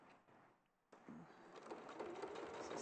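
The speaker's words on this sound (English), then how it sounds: "we are sewing this bottom seam with a 1/4 inch seam allowance" A sewing machine stitches a bottom seam with a quarter-inch seam allowance, a faint steady mechanical whir that starts after a brief pause and keeps running evenly, with no speech over it.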